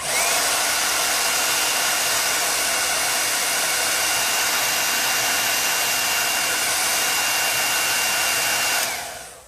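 A hair dryer or heat tool runs continuously and loudly at close range, drying chalk paste on a vintage box for a craft project, then switches off at the end.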